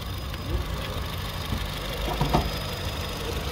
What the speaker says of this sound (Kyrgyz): Азыр унаны оталдырып жүргүзүп койгонбуз.